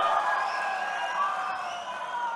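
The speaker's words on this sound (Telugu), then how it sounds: "గట్టిగా చప్పట్లు కొట్టి అందరినీ అభినందించాలి, ఆశీర్వదించాలి" A crowd at the Mahanadu 2025 party political rally, a steady roar of cheering and shouting voices with no distinct claps, loud and continuous throughout.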